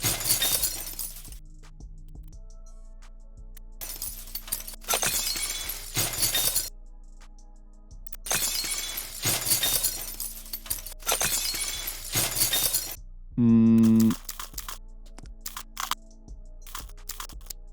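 Repeated crashes of glass shattering, each burst followed by scattered shards tinkling and falling, with a brief rising tonal sweep near the end.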